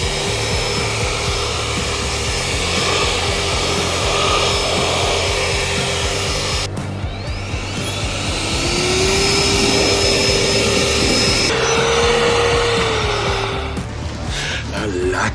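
A Teslong 20V cordless leaf blower runs continuously in a yard, a loud close whooshing roar with a shift in pitch partway through, while a voice talks over it.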